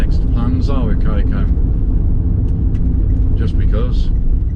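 Daihatsu Tanto Custom RS kei car driving on UK roads, a steady low engine and road rumble filling the cabin throughout, with people talking over it.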